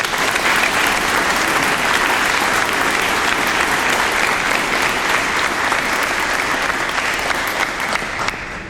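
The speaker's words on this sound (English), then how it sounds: "please join me in a round of applause for our guest of honor, Midshipman First Class Dalton Emmerich" Crowd at a Marine Corps JROTC birthday ball applauds the guest of honor, a midshipman, with sustained, dense clapping that holds steady for several seconds and eases slightly at the end.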